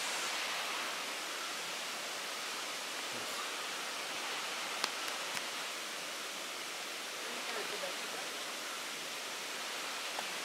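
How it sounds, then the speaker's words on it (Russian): Kirindi Ella waterfall in Sri Lanka pours as a steady, broadband rushing roar heard from close by, constant and unbroken for the whole stretch. "Ну вот мы и добрались вниз к водопаду."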